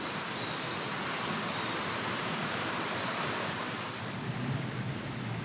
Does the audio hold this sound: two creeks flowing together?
yes